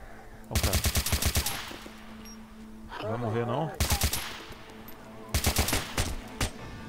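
Bursts of rapid machine gun fire in a first-person shooter game come in three loud volleys with pauses between them, while a player talks briefly in the gap.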